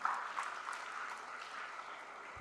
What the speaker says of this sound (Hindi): एक बार तालियां बजा भाई इन बच्चों के लिए